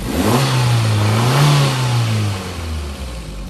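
A Maruti Suzuki Ignis car engine revs up close and loud, climbing and holding for about a second before settling back toward idle.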